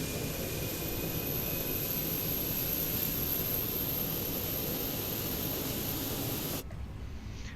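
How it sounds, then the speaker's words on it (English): Auxiliary power unit of a Fenix A320 airliner in a flight simulator, a loud steady broadband whine and roar with a faint high tone that holds, then cuts off abruptly near the end. "that is the APU starting up"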